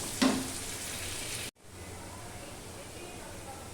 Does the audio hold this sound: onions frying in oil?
yes